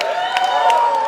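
Wedding guests cheer and clap in a brief burst of crowd applause, bright and busy, with voices mixed into the noise.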